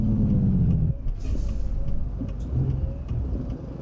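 Caterpillar C15 diesel engine in a Durahaul water tanker truck in American Truck Simulator, a steady low droning rumble that dips briefly near the first second, then carries on continuously, loud and close with no talk.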